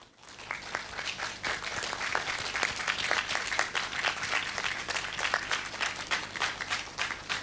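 A conference audience gives sustained applause after a keynote speaker at a summer theatre session, a steady crackling wash of many hands clapping from start to finish.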